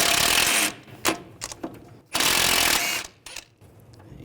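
A 14mm socket on a ratchet works a nut loose on the front tie rod of a 2011–2017 Nissan Juke, with bursts of rapid clicking and metallic rattling broken by short pauses, loud and close.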